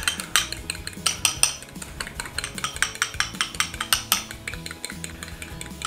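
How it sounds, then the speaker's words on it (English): Egg yolks being whisked with a fork in a bowl, a quick, steady run of clinking taps against the bowl with a faint stirring swish between strikes. "So I'm gonna just go ahead and give a scramble to my yolks"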